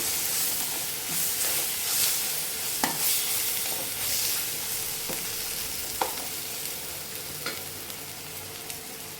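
Spices with chilli powder and garam masala sizzle steadily in a hot pan for an Andhra-style egg and dried fish tamarind curry, with occasional scrapes and taps of a spoon stirring. The frying is close and continuous, and no one speaks.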